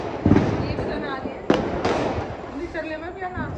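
An anar fountain firework goes off during Diwali celebrations, giving a hissing crackle with one sharp pop partway through, heard beneath people talking nearby.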